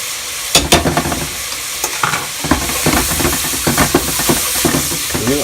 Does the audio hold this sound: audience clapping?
no